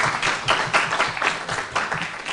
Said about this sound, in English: a big round of applause for that idea and for our presenter